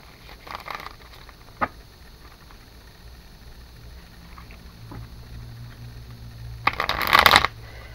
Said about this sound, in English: let's shuffle these cards